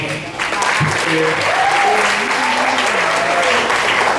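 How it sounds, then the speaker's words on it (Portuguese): A round of applause from an audience at a Brazilian storytellers' gathering, steady and full for several seconds, with a voice or two faintly heard beneath it. "peço uma salva de palmas."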